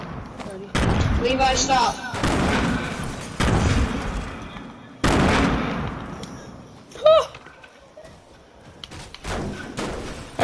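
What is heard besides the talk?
grenades exploding in a video game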